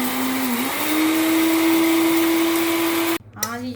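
Electric grinder whirring steadily as roasted wheat is ground into flour, a loud high motor whine that rises slightly in pitch, then cuts off abruptly and briefly restarts near the end.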